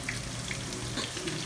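Garlic and onion sauté in a pan for sweet and sour fish, giving a steady, close sizzle with faint crackles and no talking.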